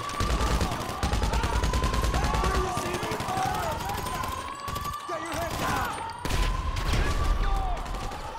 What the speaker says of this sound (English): I'm currently shooting bastards.